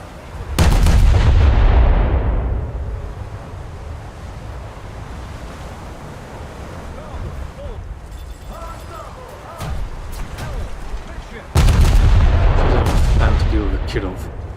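Naval artillery from a warship in a video game: two massive salvos, booming blasts with long rolling decay over wind and sea wash, separated by a quieter stretch with faint distant shots.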